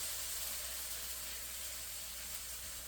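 Onions and garlic sautéing in a pan give a steady, soft sizzle and hiss that holds even and close for the whole stretch, with no voices over it.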